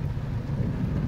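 Steady rain with a low thunder rumble along a rural road near a school, a close, constant wash of sound for about a second with no voices.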